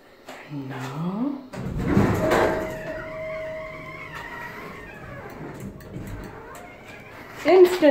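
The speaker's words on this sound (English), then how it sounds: "Instant door closed." An Otis elevator door sliding shut at a Holiday Inn in Little Rock, Arkansas, with a rumbling slide and thud, a steady electrical tone, and people talking nearby.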